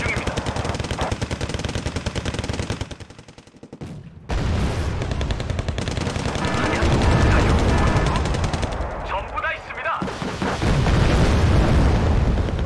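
Heavy tank gunfire in the Wargame: Red Dragon battle, with a sustained din of cannon booms and rattling automatic fire, a brief lull near four seconds, then loud continuous explosions and shooting.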